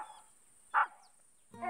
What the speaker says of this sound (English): Meanwhile, Snuffy ran up to a tree and began to bark.